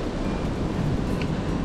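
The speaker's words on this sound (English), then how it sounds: "But pretty windy up here. Haven't seen gusts like this on the trail before." Strong wind gusting across a foggy mountain trail, a continuous low rumbling buffet close on the microphone with no talk.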